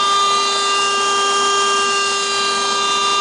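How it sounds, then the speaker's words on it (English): Welding flume pipe sections for AquaDams in Seattle: a steady electric hum with sharp tonal whine, constant and close, with no pauses or talk. "Here's the new one being welded."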